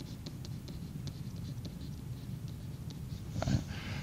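Pen or marker scratching out instructions in green on a writing surface, with a quiet, close run of short strokes and taps, then a slightly louder scrape near the end.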